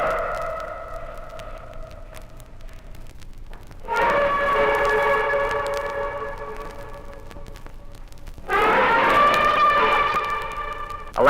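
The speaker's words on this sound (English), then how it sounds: "The famous shrill trumpet, varying in tone, indicates anger or want." An Indian elephant gives two long, shrill, wavering trumpet calls, loud and close, each lasting several seconds with a brief pause between, with no talking.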